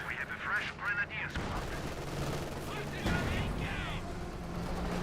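ZiS gun artillery barrage in the video game Company of Heroes 2, a dense mix of booming shell impacts and crackling gunfire over battlefield noise, with a voice talking over it.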